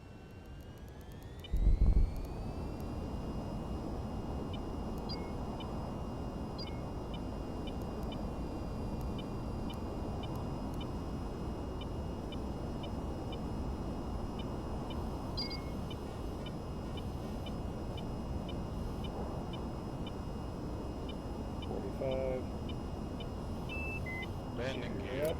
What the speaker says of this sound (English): Ready for takeoff.